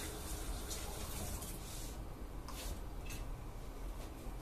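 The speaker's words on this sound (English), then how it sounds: "Okay, you want to rinse it a little bit." Ginger root rinsed under a running tap in a basement juicing setup, a steady close broadband gush of water pouring continuously throughout with slight surges, no talking.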